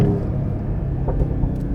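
Deep, steady exhaust rumble from a Mercedes-AMG GT 43 4-Door in sport mode, loud and close, with a continuous low drone and no speech.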